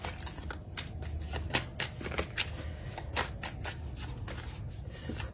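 Tarot cards being shuffled for a reading, a steady run of crisp riffling slaps and soft card-on-card flicks repeating close up with no talking.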